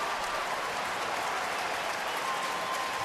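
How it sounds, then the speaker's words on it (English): A crowd at a Houston baseball game cheers and applauds steadily after a run-scoring hit: a dense, loud, continuous wash of clapping and roaring that holds level throughout. "Oh, this crowd is loving it today with Chris Johnson and the show he's putting"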